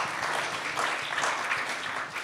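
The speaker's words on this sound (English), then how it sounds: "I think we can give a last round of applause for our guests tonight" An audience at an art forum gives a warm round of applause for the evening's guests, steady dense clapping throughout at moderate, even level.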